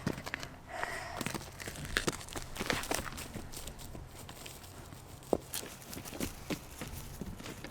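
Irregular hoof clops of a horse walking slowly, with scattered crunching and rustling on rough ground nearby; no voices.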